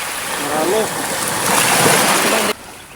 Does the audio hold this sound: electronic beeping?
no